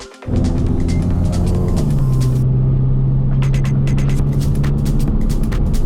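A Volkswagen MK7 GTI with a hybrid turbo and a new exhaust drives along, its engine rumbling loud and steady with a rising drone through the run.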